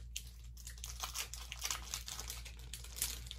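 Evolving Skies booster pack packaging crinkles and crunches in a run of close, scratchy rustles as someone struggles to tear it open.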